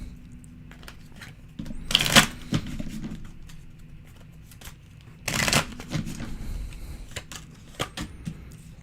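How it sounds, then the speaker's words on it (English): Tarot cards being shuffled by hand: two brisk bursts of riffling, crisp and close, separated by softer handling, tapping and card sliding. "Let's pull some more cards."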